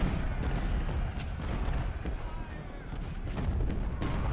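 Cannon and musket fire rumble through a Civil War battle in Ultimate General: Civil War, dull booms and scattered shots rolling continuously beneath a voice talking over the action.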